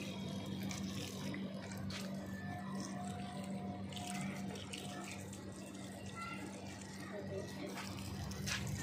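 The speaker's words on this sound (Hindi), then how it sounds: "चलो इतने प्लांट्स में पानी डाल देते हैं।" Plants are watered in the early evening, a steady stream of water pouring and splashing continuously at close range, with voices murmuring faintly in the background.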